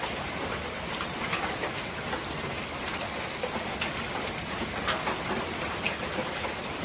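Hail pelts down during a storm near Cochrane, a dense steady patter of many small hits with sharper individual impacts scattered throughout, fairly close and continuous with no talk.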